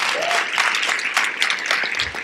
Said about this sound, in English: Folks, I need a little applause for that.